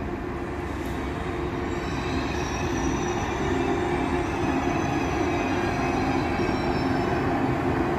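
ICE 1 class 401 high-speed train of DB Fernverkehr at a station, heard as a steady, loud rolling rumble with faint high wheel squeal, continuous throughout with no talk.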